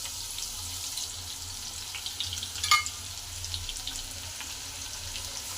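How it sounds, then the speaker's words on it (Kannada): Crushed garlic frying in a little hot oil, a soft steady sizzle with faint scraping and one brief sharper clink midway, no talking. "ಬೆಳ್ಳುಳ್ಳಿ ಹಾಕಿ ಸ್ವಲ್ಪ ಎಣ್ಣೆಲಿ ಫ್ರೈ ಮಾಡ್ಕೊತಾ ಇದ್ದೀನಿ."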